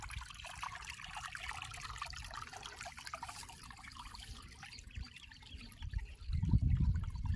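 Rainwater trickles and splashes steadily out of a rocky hillock in a forest, a close, continuous dribbling flow that swells louder toward the end.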